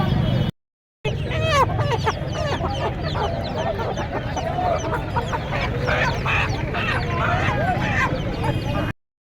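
Chickens at the Uluberia poultry market cluck and squawk continuously and loudly, a dense overlapping din with people talking through it and a short gap near the start.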